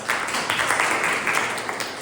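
A Toastmasters club meeting breaks into a short burst of group applause, a dense, even patter of many hands clapping at once, fairly loud and close, with no talk over it.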